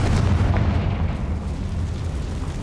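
A deep, rumbling blast from a Confringo fire spell in the Hogwarts Legacy video game, loud and sustained for a couple of seconds with no talking over it.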